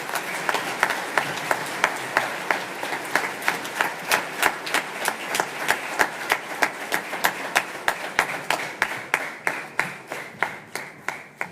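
A church congregation claps for a group of boys and girls at a Sunday Mass. The clapping is sustained and sharp in the hall, settles into a fairly even rhythm and slowly fades toward the end.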